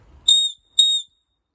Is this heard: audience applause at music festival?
no